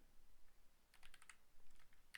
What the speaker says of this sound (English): So let's get rid of that, and we type